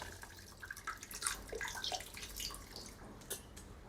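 Tamarind water poured into a fish curry with drumstick in a home kitchen, a faint soft trickling and splashing that continues for a few seconds, quiet and close.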